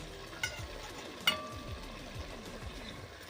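Chicken pieces stirred in a hot frying pan, giving a soft, steady sizzle with scraping stir sounds and a couple of sharper clinks, close and quiet.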